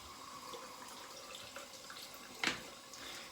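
Water runs quietly from a tap into a sink, a faint steady trickle with one brief louder splash partway through.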